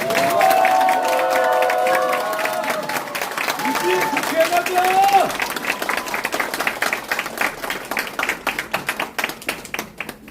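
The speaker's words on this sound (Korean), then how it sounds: "다 함께 큰 박수로 맞아주시기 바랍니다" A crowd at a Seoul election campaign office opening claps and cheers to welcome a candidate, with voices mixed in. The loud applause thins toward the end into scattered individual claps.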